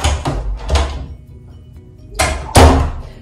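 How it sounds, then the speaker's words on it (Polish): A front door of a student dorm room thuds several times, close and fairly loud, in a few separate knocks and bumps with quiet pauses between them. "Tutaj mamy drzwi wejściowe."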